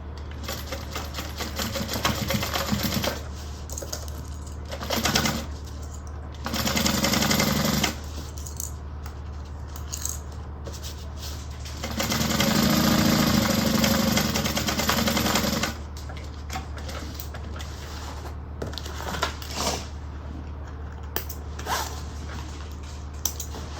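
A sewing machine stitches the side seams of a bag in several bursts of rapid mechanical whirring, the longest running several seconds, separated by quieter pauses with fabric handling and clicks.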